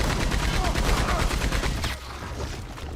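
Belt-fed machine gun firing a rapid fully automatic burst, loud, close and sharply rhythmic, with the shots tapering off after about two seconds into a fading echo.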